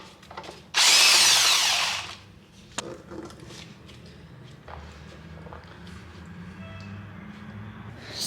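A power tool works on a BMW 335i while its single turbo kit is removed, giving one loud, close burst lasting just over a second, then fading to a low, steady garage hum with faint knocks.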